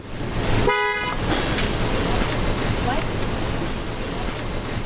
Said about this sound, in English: Oh, a lot of traffic, okay.